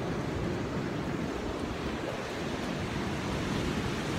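Ocean waves roll onto a beach on Bald Head Island, North Carolina, in winter, a steady, full wash of surf mixed with wind noise against the microphone, with no voices.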